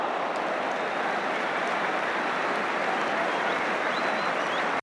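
Football crowd at a 1983 Division 1 match between Manchester United and Tottenham applauds a fine save, a dense, steady wall of clapping filling the whole stretch before cutting off abruptly at the end.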